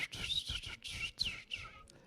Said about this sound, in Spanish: entana donde nos ha puesto Esteban y Karina, ahí hay árboles y ahí están los pajaritos saltando de un lugar a otro entre las ramas y cantando.